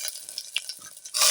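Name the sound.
curry leaves sizzling while tempering in hot oil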